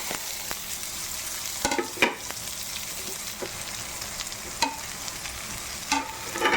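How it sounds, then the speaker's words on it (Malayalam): Onions and curry leaves sizzle steadily in a hot pan for a Kerala prawn roast, with a continuous frying hiss broken by several scraping stirs of a spatula close by. "ഇനി നമ്മൾ എടുത്ത് വെച്ചിരിക്കുന്ന സവാളയും വേപ്പിലയും കൂടെ നമുക്ക് ഇട്ട് കൊടുക്കാം"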